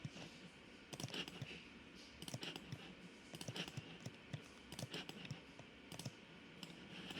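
Quiet, close clicks from a computer mouse and keyboard during 3D modelling work, scattered sharp taps coming in small clusters with irregular pauses between them.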